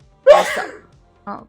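A single loud, breathy sneeze bursts out close up, followed after a short pause by a brief voiced sound.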